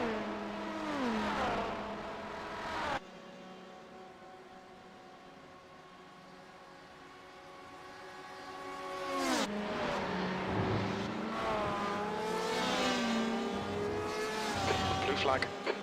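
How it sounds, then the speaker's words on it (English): Le Mans prototype race car in a racing video game, its engine rising and falling in pitch through gear changes, then dropping out before a second loud, close engine surges back and revs hard. "There's another prototype approaching."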